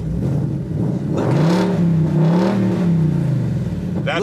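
A 2018 Ford Mustang revs through an aftermarket exhaust, a loud, close engine note that swells and falls in a couple of smooth pulls before easing back.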